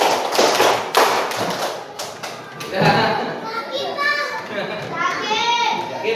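Children clap together in quick counted bursts of sharp unison claps at the start, followed by excited children's voices and chatter filling the classroom.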